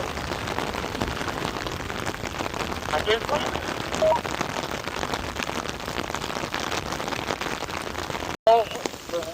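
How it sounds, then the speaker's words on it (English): Steady heavy rain patters across a surface at a mountain-bike race for the whole stretch, a dense hiss with a brief dropout near the end. "It's raining."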